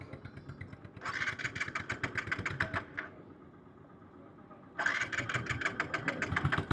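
A TVS Apache RTR 160 2V motorcycle out of fuel is cranked without catching: two bursts of rapid starter whirring separated by a quiet pause, close and fairly loud, with no engine firing.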